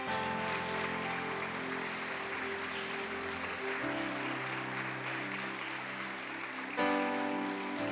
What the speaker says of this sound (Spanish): Den un aplauso por favor a mi Jesús.